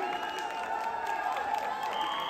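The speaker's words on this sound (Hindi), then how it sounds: "और एक बार जोरदार ताली हो सारे," Crowd applause and cheering after a bhangra dance performance at an IT company event, steady clapping filling the whole short stretch with a faint tone running underneath.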